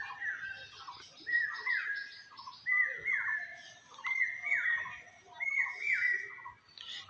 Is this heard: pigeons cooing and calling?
yes